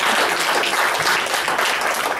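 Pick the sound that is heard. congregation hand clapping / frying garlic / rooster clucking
congregation hand clapping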